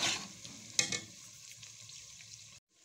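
Garlic and onions fry in a pan for a Pakistani mashed daal, a bright close sizzle with a loud stir burst near the start, easing off before cutting to silence at the end.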